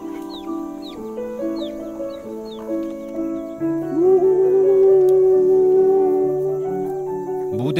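Chickens in a chicken coop give loud, close, drawn-out calls and clucks, with tonal vocalizations overlapping and rising in a noisy chorus, and no speech.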